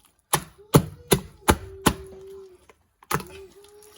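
Urad dal vada batter is beaten hard by hand in a bowl, giving about five loud, evenly spaced slapping thumps with a faint ringing tone, a short pause, then one more thump.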